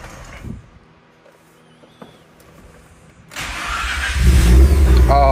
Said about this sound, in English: So let's see if this starter did the trick.